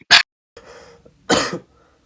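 A cough bursts out sharply, followed by a brief quiet breathy pause and then a second, longer cough, both close and loud in an otherwise quiet indoor space.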